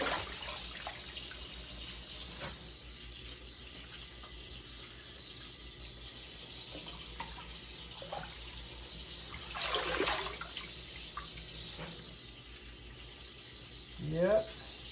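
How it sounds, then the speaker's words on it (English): Collard greens are rinsed under a running kitchen tap, a quiet continuous water flow with occasional splashes and handling clatter. A louder gush comes partway through and again at the end. "I'm going to put them back in this one and rinse them."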